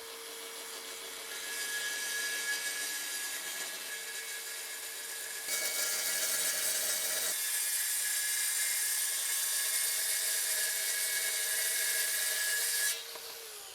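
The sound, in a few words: track saw cutting two pieces of wood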